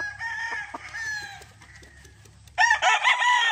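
A Raptor Sweater gamefowl rooster in conditioning clucks in short bursts at close range, then lets out a loud, strained crow near the end.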